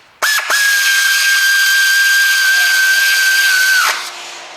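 A power tool drives a bolt into the alternator of a 2000 Ford Fiesta 1.25 during timing belt work, a steady high-pitched whine running for about three and a half seconds, close and loud, starting and stopping abruptly.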